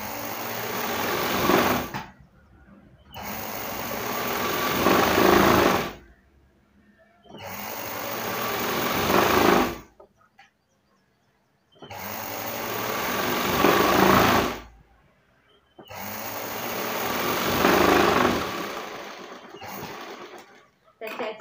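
A sewing machine stitches a blouse in repeated bursts of rapid mechanical whirring, each a few seconds long, with brief quiet pauses between runs. The machine is close and moderately loud.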